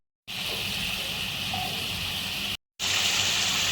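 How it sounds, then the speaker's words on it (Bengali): Water is poured into a pan of cooked-down spice paste for a Bengali tangra fish curry, a steady loud gushing splash that runs unbroken, stops briefly, then resumes with no voices. "আমার মশলাটা কষানো হয়ে গেছে, এবার আমি পরিমাণ মতো জল দেবো।"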